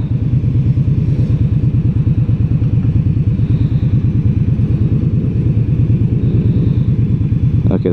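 A 2016 Indian Scout motorcycle engine idling at a traffic light, a loud, close, steady low throbbing pulse that continues evenly throughout without talk.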